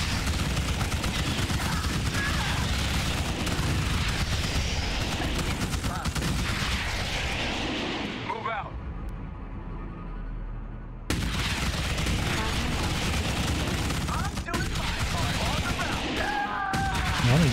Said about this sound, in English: Thank God for those heavy cannons over there on the wall.